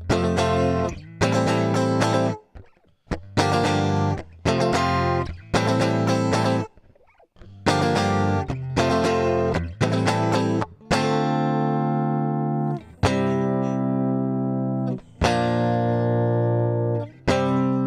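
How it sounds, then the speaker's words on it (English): Distorted electric guitar plays chopped, repeated chords and sustained notes from a song, with brief gaps between, loud and close, with no voices. "So on this part, you're going to want to use some distortion."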